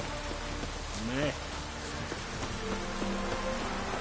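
Rain falls steadily in The Witcher 3: Wild Hunt, a dense constant patter across the whole stretch, with a tonal voice rising briefly over it and faint scattered game sounds.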